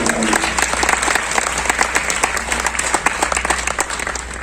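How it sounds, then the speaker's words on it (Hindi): Audience applause at a Hindi satirical comedy performance, dense steady clapping from a large crowd filling the whole stretch at a fairly loud level. "तालियां इस बात पर कम मिली आपकी"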